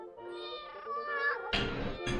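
A cartoon cat in a film gives a drawn-out, wavering meow, followed by a couple of louder, harsher bursts near the end.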